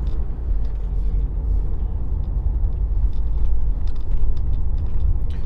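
A Jaguar F-Pace D200 with a 2-litre diesel engine drives steadily, with a continuous low engine and road rumble heard from inside the cabin and no voices.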